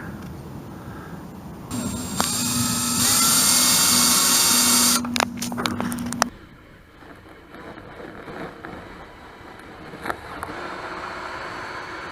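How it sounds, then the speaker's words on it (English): A power drill whines steadily for several seconds, grinding through a boat hull from the inside, then stops, leaving quieter background noise and a few clicks. "I'm gonna drill right through from the inside of the boat"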